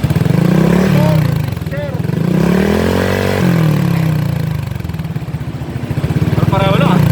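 A motorcycle fitted with an Akrapovič exhaust silencer revs up and down in several swells, a loud, close engine rumble rising and falling, while people talk nearby.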